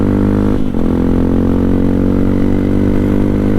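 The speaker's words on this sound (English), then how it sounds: "the exhaust of this motorcycle is really making a real good noise" A Hero Impulse dual-sport motorcycle with a 149cc single-cylinder engine idles loudly and close through its exhaust in a steady, even thrum, with one brief dip near the start.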